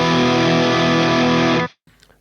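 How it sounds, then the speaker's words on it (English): Loud, sustained distorted electric guitar chord through an MXR Distortion Plus pedal, ringing thick and buzzy, then cutting off abruptly into near silence with faint residual noise. "first out is the MXR Distortion Plus"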